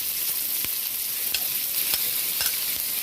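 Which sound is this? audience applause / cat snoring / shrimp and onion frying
shrimp and onion frying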